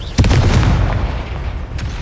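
A Confringo explosion spell goes off in Hogwarts Legacy, a loud boomy burst that cuts in sharply and rumbles on, with a second smaller crack near the end.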